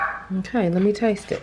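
A dog gives a few short, whiny yips mixed in with a person speaking nearby.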